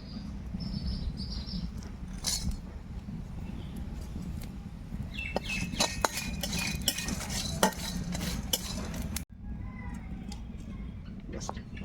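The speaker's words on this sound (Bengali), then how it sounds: "এইগুলোকে আমি শুকনো কলায় ভেজে নেব" Bay leaf, dried chilli, cardamom, fennel, pepper and star anise dry-roasted in a pan, heard as faint rattling and stirring clinks over a steady low hum, with quiet murmured speech in places.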